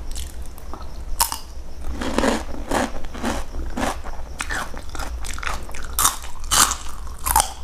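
Crunchy Thai pork cracklings (khaep mu) from Chiang Mai are bitten and chewed up close, giving a run of sharp, brittle crunches and crackles in an uneven rhythm with no talking.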